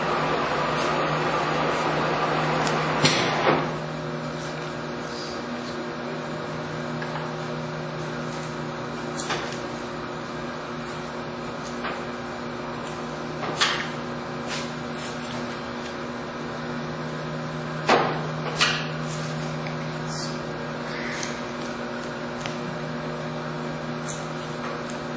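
Monarch 21x72 lathe turning slowly at 18 RPM, producing a steady mechanical hum with a few sharp knocks and clunks scattered through it, fairly loud and close, with no speech.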